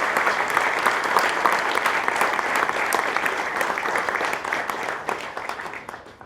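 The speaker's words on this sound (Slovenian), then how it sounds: "en velik aplavz, da jim malo tisti strah pa trema mineta" An outdoor crowd at a national ploughing competition gives the seated competitors a big round of applause, dense and loud throughout before fading out over the last second.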